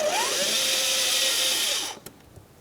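A power tool whines steadily as it loosens hose clamps with an 8mm socket on the air intake hose of a 2004-2008 Pontiac Grand Prix 3.8L V6, close and loud, then cuts off, leaving a few faint clicks.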